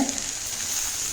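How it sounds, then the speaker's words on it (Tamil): Steady frying hiss and crackle from bitter gourd in a hot pan, continuous and fairly close, with no voices. "இப்போ பாருங்கள் இது கொஞ்சம் சரசரான் சத்தம் கேட்குது"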